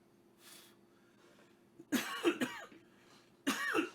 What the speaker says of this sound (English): I'm coughing up orange flavor.